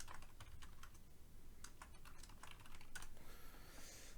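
Typing on a computer keyboard at a desk, faint scattered key clicks in short irregular bursts over a low background hum, quiet and without speech.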